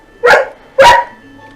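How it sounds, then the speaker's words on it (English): Two quick, loud barks from a dog come in close succession against a near-silent room. "my dog is barking in the background"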